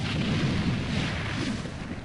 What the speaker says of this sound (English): And then there's these guys who just breathe fire.